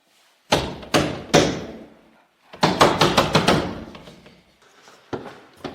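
Someone bangs on a locked storage room door, giving three heavy thuds, a pause, then a rapid burst of five or six pounding knocks that fade, and a couple of lighter hits later.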